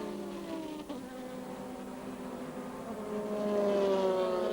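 A Lister Storm GT race car in the 2000 FIA GT championship, its engine droning steadily at high revs, a short gearshift dip early, then building louder as the car closes in and passes another car.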